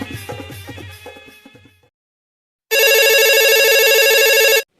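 A few seconds of muffled background sounds fall silent, then an electronic phone ringtone plays loudly and steadily for about two seconds.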